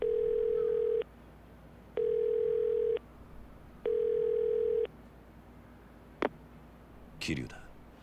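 Payphone ringback in the video game Yakuza 0: three even, steady tones with pauses between, then a click and a brief rustle as the line connects.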